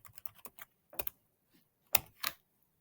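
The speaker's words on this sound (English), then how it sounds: "We will type in our product" A computer keyboard is typed on in short, light bursts of a few keystrokes with pauses between them, close and quiet, with no talking.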